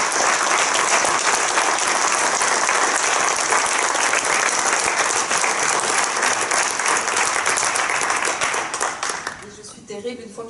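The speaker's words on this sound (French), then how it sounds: "d'applaudir." Dense, loud audience applause at a December commemorative gathering, sustained evenly for about nine seconds and then tapering off quickly at the end.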